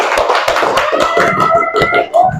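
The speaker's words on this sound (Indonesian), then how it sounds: "beri tepuk tangan yang lain" A classroom of fifth-grade pupils claps for a group presenting a project, with sharp, irregular individual claps up close and some voices mixed in near the end.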